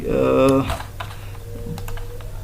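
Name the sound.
typing on a computer keyboard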